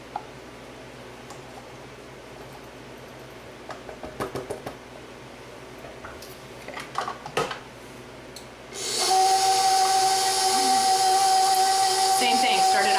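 An electric mixer kicks on at high speed to mix cookie dough with flour, a loud steady whirring hum that starts abruptly after several quieter clunks and handling knocks.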